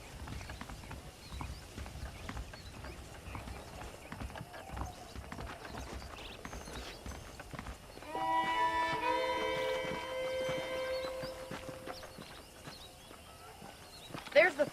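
Horse hooves clip-clop steadily in Red Dead Redemption as a rider moves along, with talking over the top and music joining partway through.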